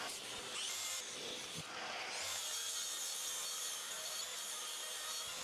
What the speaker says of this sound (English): we can cut this board all the way along so it ends on the centre of this joist